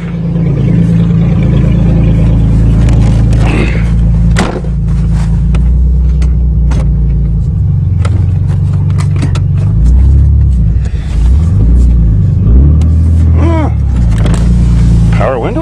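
A 1994 Ford Taurus wagon pulls away, its engine and road rumble rising into a steady, loud drone with a brief rev, while a person talks over it.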